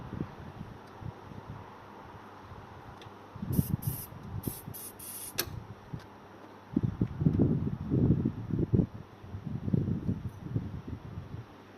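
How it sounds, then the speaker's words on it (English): Several short hissing bursts of aerosol starting fluid sprayed into a 1979 Porsche 924's intake, a quick run of spurts, followed by low rustling and fumbling noises close by. "I'm just going to spray a bit of Easy Start down its throat"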